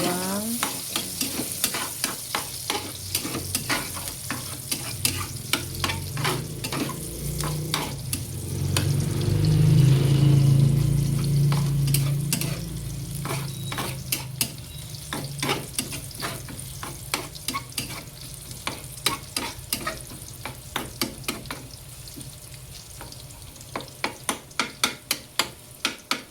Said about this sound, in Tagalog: nagisa ako ng sibuyas, bawang